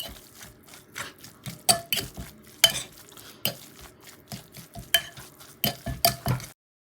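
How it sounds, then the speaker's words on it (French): A fork mixing a filling in a bowl for a Disney-themed recipe gives irregular clinks and scrapes. The taps and stirring strokes are close and crisp, with a faint frying hiss underneath and no talking. "Mélanger avec une fourchette l'ensemble, comme vous voyez juste ici."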